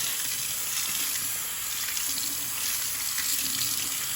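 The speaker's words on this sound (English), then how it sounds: "we're just giving them a good rinse under cold water" Cold tap water runs steadily over lentils being rinsed in a sink, a continuous close splashing wash with no talking.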